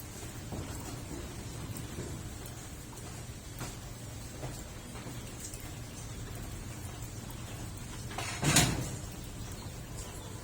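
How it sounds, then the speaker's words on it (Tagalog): Steady rain falling during a typhoon-driven thunderstorm, a constant wash of noise with a brief louder crack or rumble near the end, no voices. "Siyempre, bumabagyo."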